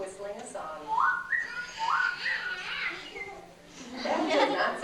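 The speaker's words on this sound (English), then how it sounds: "this ghost was different than most because he was whistling a song" A person whistles a bouncy tune with rising and falling notes, fairly close, followed by a brief burst of voices at the end.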